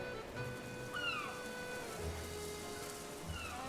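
Faint, distant cat meows, two or three brief rising-falling cries, over a soft steady background hiss with a few low thumps.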